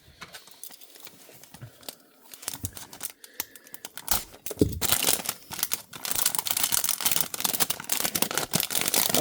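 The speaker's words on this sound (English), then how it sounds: "maybe it's better to take it out of the plastic first" Diecast 1/64 Rollin Crown Victoria NYC taxi model being pulled from plastic packaging, with close crinkling and rustling that grows busier and louder toward the end.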